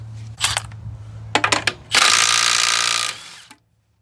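Milwaukee 2562-20 stubby 3/8-inch drive cordless impact wrench with a 5 amp hour battery, a few short hammering bursts followed by a loud sustained run of about a second and a half, then winding down to silence.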